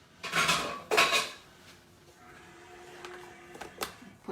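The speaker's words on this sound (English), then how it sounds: "Put this in the sink." Metal utensils and a dish clatter into a kitchen sink during vegan, gluten-free sugar cookie dough prep, two loud clanks close by, then softer rattles and a few light clinks.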